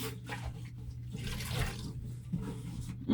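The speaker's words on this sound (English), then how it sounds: "So we're just washing our deep fryer nice there." Running water rinsing out a Mainstays 4-litre deep fryer during cleaning, heard as a soft, uneven splashing and trickling that swells and fades over a few seconds with no talk.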